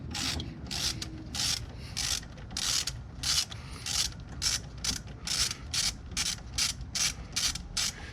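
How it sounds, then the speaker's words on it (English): A hand ratchet tightens the shift bracket bolts on a Ford Focus ST/RS, clicking rapidly and evenly up close in repeated short strokes, with no talking. "And I can get to it with the ratchet too."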